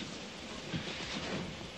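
Inside a moving passenger train riding the rails in Germany, a faint, steady low rumble of the carriage with soft, even track noise, brief and uninterrupted, with no voices.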